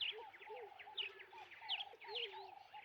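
A small bird chirps over and over, a quick run of high, bright tweets and whistles close by with soft lower coos under them and no voices.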